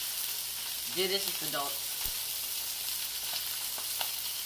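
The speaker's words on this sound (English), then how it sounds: "it does sizzle like this" A papio fish fries in a hot pan, giving a soft continuous sizzle and crackle; a person speaks briefly near the start over the frying.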